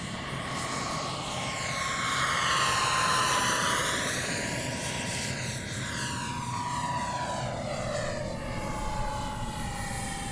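An XFly F-18 Hornet twin 40mm EDF model jet flies by with a steady, loud, high-pitched ducted-fan whine that rises and falls in pitch as it passes, continuous for about ten seconds with no voices.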